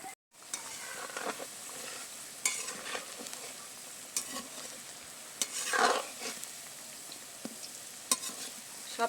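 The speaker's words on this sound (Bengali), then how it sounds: "সব পিঠ নেড়ে চেড়ে বেশ সুন্দর লাল করে ভেজে নেব।" Lentil fritters (dal bora) frying in oil, a steady close sizzle with bursts of stirring and turning, heard alone without voices.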